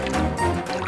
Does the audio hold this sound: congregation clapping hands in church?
no